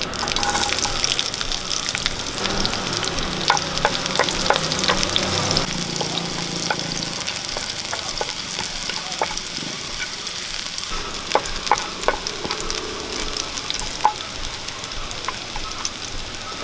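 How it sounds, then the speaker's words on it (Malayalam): Mustard seeds and chopped shallots fry in coconut oil for a Kerala fish curry, giving a loud, steady crackling sizzle with scattered sharp pops and occasional stirring scrapes, close up. "കുറച്ച് വെളിച്ചെണ്ണ ഒഴിച്ചു കൊടുക്കാം നമുക്ക് കുറച്ച് കടുക് ഇട്ട് കൊടുക്കാം ഒരു മൂന്നാല് ചുവന്നുള്ളി അരിഞ്ഞത് ഇട്ട് കൊടുക്കാം"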